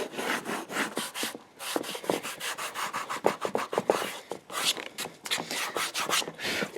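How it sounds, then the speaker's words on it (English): Rapid back-and-forth abrasive rubbing of a sanding block on leather edges, a steady scratchy rhythm of short strokes with brief pauses, close and fairly loud. "I've got lots of sanding blocks that I use to do final shaping"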